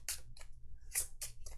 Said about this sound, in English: I'll just give these a super quick shuffle.